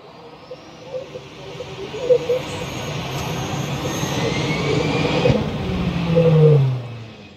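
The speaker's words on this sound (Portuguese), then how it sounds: "trago aqui um vídeo para vocês de um stall de compressor" A jet engine suffers a compressor stall during takeoff, forcing an aborted takeoff: a loud, steady roar with a few sharp, abrupt bangs and surges over the top.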